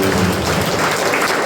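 A church congregation claps together in a dense, continuous wash of applause, loud and close throughout the short stretch, with faint voices mixed in.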